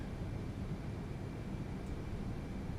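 Steady, droning roar of L-1011 TriStar jet engines in Microsoft Flight Simulator 2024, a constant broadband hum with no breaks, moderately quiet.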